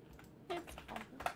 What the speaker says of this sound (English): By typing the room name.